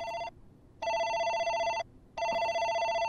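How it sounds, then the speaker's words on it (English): A telephone ringing in the horror game demo Still Ridge, a loud electronic ring in repeated long bursts with short silent gaps between them. "Pick up the phone."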